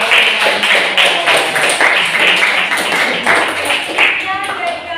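Applause in a classroom as a group of students claps together, a dense, steady patter of many hands lasting throughout, fairly loud and close.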